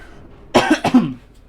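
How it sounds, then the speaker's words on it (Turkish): A short burst of two or three close coughs from a sick man, loud and alone against a quiet background. "videoda biraz fazla öksürük sesi olacak"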